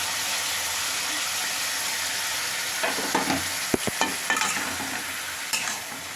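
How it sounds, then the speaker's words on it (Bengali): Chicken is stirred in a hot pan with green chili, ginger and garlic paste, a steady frying sizzle broken by a few scraping strokes and soft knocks of a spoon, close and continuous. "দিয়ে এটাকে ভালো করে মিশিয়ে দেব"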